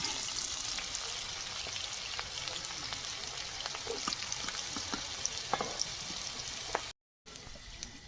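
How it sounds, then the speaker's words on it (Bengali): Mixed vegetables frying in a pan for a spicy veg biryani, a steady close sizzle with scattered crackles and pops running throughout, briefly cut out near the end before resuming. "সব রকম সবজি ভেজে নিয়েছি এবার তুলে নেব"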